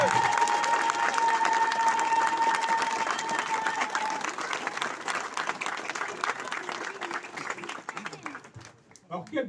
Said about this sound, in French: On peut les applaudir parce que il faut le faire.